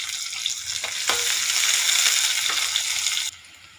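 Onion pieces fry in hot oil for a curry, producing a bright, hissing sizzle with a few soft stirring knocks before the sound cuts off abruptly near the end.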